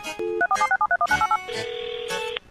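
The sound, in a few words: phone hanging up tone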